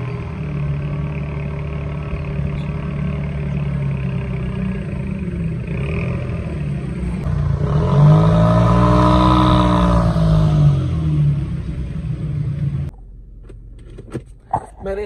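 A car engine runs steadily as the car is driven out, a mid-pitched hum that swells and revs in the middle before dropping off abruptly near the end, with no talk.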